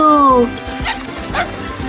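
A cartoon dog gives a rising whimpering yip followed by short barks, close and clear, mixed with animated voices and background music.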